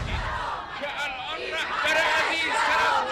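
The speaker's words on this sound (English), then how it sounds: "He attended a massive protest in Tehran where protesters chanted "Death to America, death to Israel."" A massive protest crowd in central Tehran chanting slogans, a loud, rhythmic roar of many voices filling the space, with individual shouts rising above the mass.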